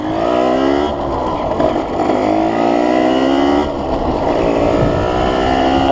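A Derbi Senda 50 moped at full throttle, its small two-stroke engine droning loud and steady with rising pitch sweeps as it climbs through the gears, close up with no talking.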